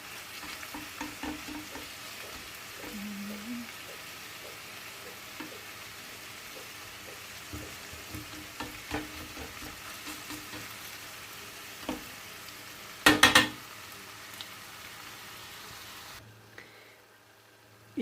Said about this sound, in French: Je les fais dorer un petit peu des deux côtés.